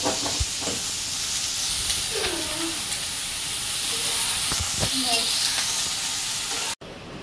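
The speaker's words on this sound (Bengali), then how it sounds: "দেখুন বন্ধুরা, গরম গরম মাছের ডিমের বড়া ভেজে নিচ্ছি।" Fish roe fritters made with gram flour and green chili fry in hot oil, giving a steady close sizzle and hiss throughout with a few soft clinks of stirring, then a brief cut near the end.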